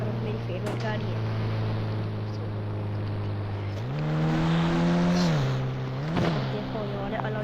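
A car in the mobile game Indian Bike Driver 3D holds a steady engine drone, then revs higher mid-clip and drops back, with a brief whoosh near the end and no speech.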